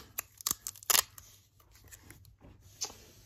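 Tape being peeled and pulled apart from taped-together mail items, a few sharp crinkling rips and crackles close up, quieter rustling handling in between, no talking.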